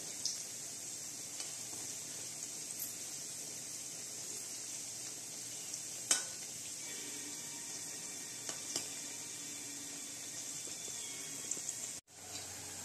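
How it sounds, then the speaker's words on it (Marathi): Spinach bhaji fritters deep-frying in oil produce a faint, continuous bubbling sizzle, with a couple of brief clicks and a short dropout near the end and no talking. "भजी बघा तळून आहेत, असं सोनेरी कलर आलाय"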